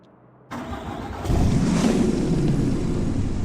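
A crew cab platinum DRW pickup truck engine in Farming Simulator 25 cranks to life and settles into a steady, loud idle, with a second step up in rumble a moment after ignition.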